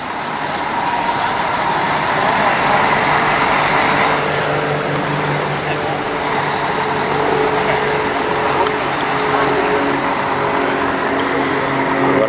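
A Marcopolo Paradiso 1200 coach pulls out of the Tietê bus terminal, its diesel engine rumbling steadily and loudly as it accelerates, with terminal traffic noise around it and faint squeaks near the end.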